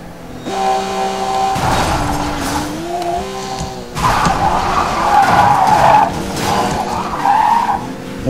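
A Porsche 918 Spider in a Need for Speed race, engine revving and shifting pitch while tires squeal and skid in long loud stretches, with a few bumps and thuds along the way.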